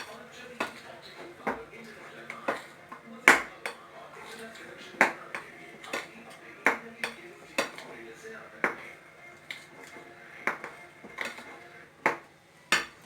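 Cocoa powder is folded into marble cake batter in a bowl, with a spatula knocking and scraping against the bowl in irregular sharp clicks and taps, moderately close.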